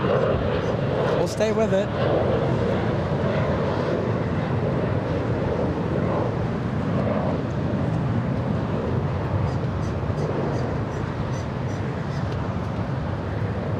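An Air New Zealand airliner in from Auckland pushes back at LAX, a steady broadband engine roar running throughout beneath a voice talking.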